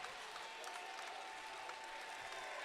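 Crowd at a Vermont vs. Brown college basketball game cheering and applauding steadily after back-to-back blocks by the Bears, a dense, sustained roar of claps and voices with a faint announcer-like tone underneath.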